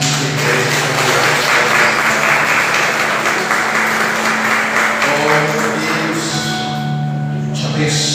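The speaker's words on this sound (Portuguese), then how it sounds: "Damos aplausos para Jesus." A church congregation applauding, a steady wash of many hands clapping at full volume that fades out near the end, with a voice and music underneath.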